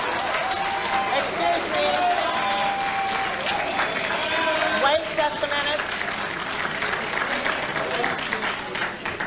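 Steady audience applause fills the room, dense and sustained throughout, with a voice speaking over the clapping.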